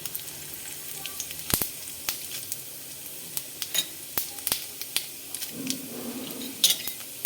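Whole cumin seeds, bay leaf and dried red chili crackle in hot oil: a steady close sizzle broken by sharp pops and spits, with occasional clinks of a utensil against the pan.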